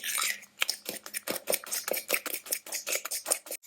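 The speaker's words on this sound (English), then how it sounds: "you need to mix it very well because the whites need to mix with the" A whisk or fork beats eggs, whites and yolks together, for a carbonara sauce, a rapid run of close, bright metallic clicks against a bowl in a steady uneven rhythm.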